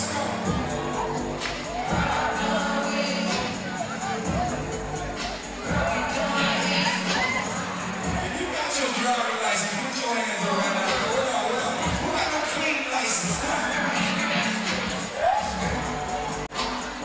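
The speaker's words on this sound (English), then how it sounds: "The Godby crowd is enjoying it." Crowd at a regional semi-final high school basketball game cheering and shouting loudly during a timeout, a continuous roar of voices and chatter with children's shouts throughout.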